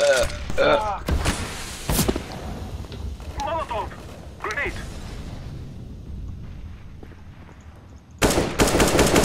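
Counter-Strike: Global Offensive gunfire during a bomb defuse, bursts of rapid automatic shots in the opening seconds and again at the end, loud and close, with players talking in between.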